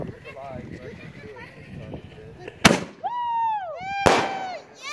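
New Year's party fireworks burst in two sharp, loud explosions a little over a second apart, each trailed by descending whistling tones, over steady crowd chatter and people talking.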